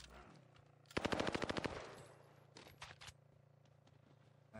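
Burst of rapid automatic gunfire in the Warzone video game, a quick string of loud shots lasting under a second, followed by scattered fainter distant shots and quiet game ambience.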